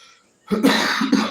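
A woman in a home kitchen making a chocolate dream cake coughs twice, short harsh throaty bursts close to the microphone after a brief quiet pause.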